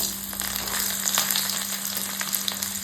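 Steady, close sizzling and crackling of onions frying in hot oil with mustard seeds for tempering, with small pops scattered throughout and no talking.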